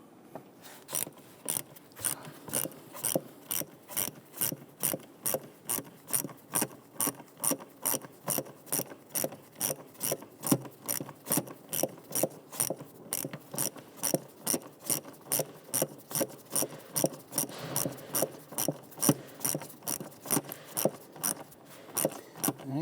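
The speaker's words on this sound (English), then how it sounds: "Using a flathead screwdriver, we can go ahead and tighten down the clamps here." Flathead screwdriver tightening hose clamps on a Jeep Grand Cherokee 3.6L V6 engine, heard as a steady run of quick ratcheting clicks, close and evenly paced, with no talking.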